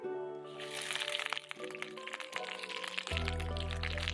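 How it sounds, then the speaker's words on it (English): Big handful of kale dropped into a preheated, very hot cast iron pan, giving a crackling, hissing sizzle that swells near the end, with a steady musical tone running underneath. "So the cast iron is now preheated and it's nice and hot, and I'm gonna add a big handful of our kale to that."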